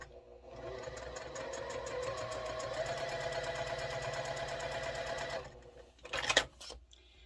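A sewing machine top-stitches fabric for a small fabric sticky-note case with a steady, close mechanical whir for about five seconds, then stops, followed by a few faint clicks and handling sounds.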